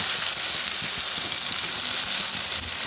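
Eggplant pieces sizzle loudly and steadily in hot oil with a dense, hissing crackle, in a paneer eggplant gravy cooked restaurant style.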